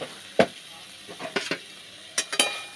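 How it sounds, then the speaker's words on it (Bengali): Whole potatoes with Kashmiri chili and salt being stirred in a pan: a few brief, sharp scraping strokes scattered over a soft background hiss, with no voices. "এবার এটাকে ভালো করে আমি কষে নেব।"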